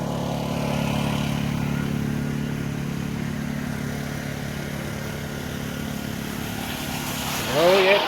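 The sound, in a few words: Honda generator running under load of water pump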